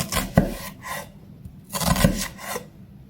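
A knife slices through shallots on a cutting board in two bursts, each a rasping scrape of blade through the layers ending in a knock on the board, fairly close with no talking.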